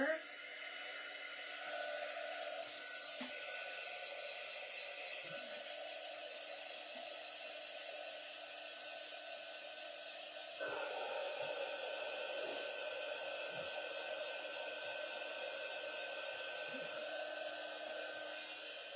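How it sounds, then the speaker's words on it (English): A hair dryer blows steadily on freshly painted craft pieces, a constant close whooshing hum that jumps slightly louder partway through, with faint voices underneath. "All right, I'm gonna dry this."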